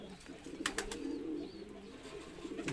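Shirazi pigeons coo softly and low in a breeding setup, a few rolling coos close by against quiet room noise, with brief higher flutters or chirps mixed in.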